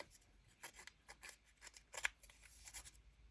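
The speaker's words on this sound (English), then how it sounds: "You could always just dig your scissors in like that and just like that." Scissors snip and rasp through paper for a junk journal craft: a run of short, irregular cuts, close and crisp, with no talk.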